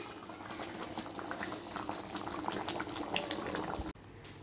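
Water for cooking rice boils hard in a pot, a dense continuous bubbling roar close by that cuts off abruptly near the end, leaving a quieter hiss.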